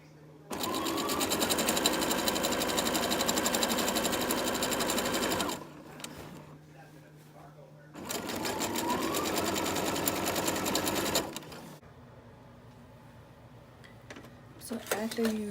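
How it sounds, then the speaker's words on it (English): A sewing machine fitted with a ruffle foot gathers ruffles on the bottom of a party dress, running steadily in two long bursts of rapid whirring with a pause between, close and moderately loud. "I added my ruffle foot to the machine, and I'm starting to make ruffles with the bottom part of the dress."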